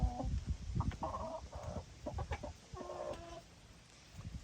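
Backyard hens clucking around a homemade 5-gallon bucket feeder: repeated close, lively clucks and short calls in bursts over soft rustling and ambient noise, with no speech.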